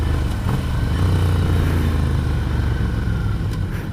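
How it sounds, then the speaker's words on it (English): A 2015 Ducati Scrambler rumbles steadily and close by for about four seconds, its low engine note holding even as it runs through engine braking, with some wind rush over it and no talk. "Got a bit of engine braking to it."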